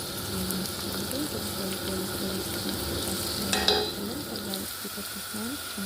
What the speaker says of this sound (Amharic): ነጭ ሽንኩርት እናደርግና አብረን እንደዚህ እንጠብሳለን